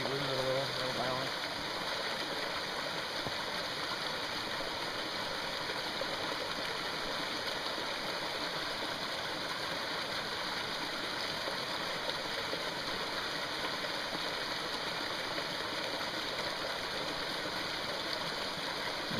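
Steady, close rush of a mountain stream pouring over rocks at a creek crossing in the Great Smoky Mountains, a constant broadband wash that runs unbroken throughout, with brief faint voices at the very start.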